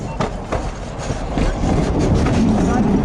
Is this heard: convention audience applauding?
no